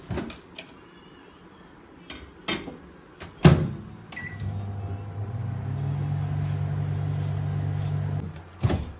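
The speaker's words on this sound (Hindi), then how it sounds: "अब हम लोग 5 मिनट्स माइक्रोवेव मोड में इसको कुक करेंगे" A steady low hum of a running microwave oven baking a vanilla sponge cake sets in after several knocks and clunks, continuing evenly until a final thump.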